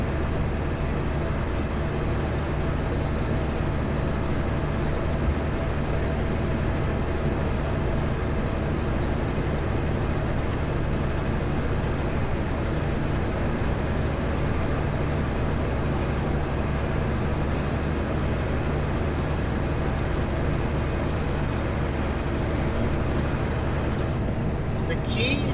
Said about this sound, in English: Driving on ice we're spinning